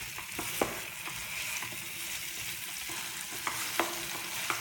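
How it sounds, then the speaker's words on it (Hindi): Readymade khoa roasts in ghee in a pan, with a steady soft sizzle and a spoon scraping and stirring through it in occasional clicks. "रेडीमेड खोआ लिया है इसलिए इसको भूनने के लिए थोड़ा घी का यूज करेंगे हम. अच्छे से भून लेंगे."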